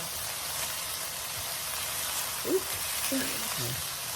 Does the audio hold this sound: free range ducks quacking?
no